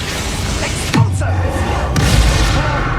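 A magical Expulso blast in the Hogwarts Legacy video game sets off one deep, booming explosion that drops into a low rumble, loud against steady battle noise, with a lighter second impact a moment later.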